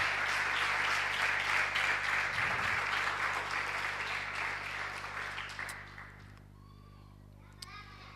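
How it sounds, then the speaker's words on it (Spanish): Church congregation applauding during a service, broad steady clapping that fades out after several seconds into quiet room tone with faint voices. "Dale un aplauso al Señor."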